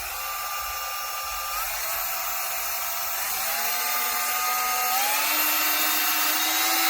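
A Dremel 8240 cordless rotary tool running at slow speed gives a steady, fairly quiet whine whose pitch creeps slowly upward, with a thin high hiss on top and no speech.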